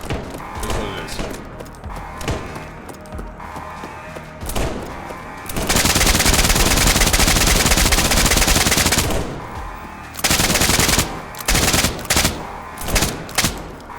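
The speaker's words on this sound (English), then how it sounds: "As you hear, there are Foundation guards up there, and they will shoot at you." Foundation guards firing in SCP 5K, bursts of machine-gun fire with a long dense fusillade in the middle and sharp single shots and short volleys around it, loud and close.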